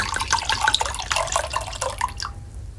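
Liquid being poured into a glass indoors, a short run of bright splashing and trickling drips that tapers off after about two seconds.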